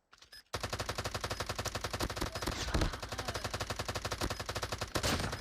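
Rapid automatic gunfire from a mobile shooter game in a bomb-defusal round pounds in a steady, fast stream of close, loud shots, starting abruptly after a short quiet moment and running almost unbroken.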